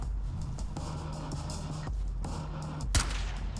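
Gunfire crackles through a tense SWAT raid in the tactical shooter Ready or Not, several muffled shots over a steady low rumble, with one sharper, louder report near the end.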